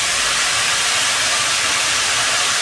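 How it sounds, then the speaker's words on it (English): Green peas with spices steaming in a pot, giving a steady, loud broadband hiss that holds evenly throughout with no talk. "I just want to steam them."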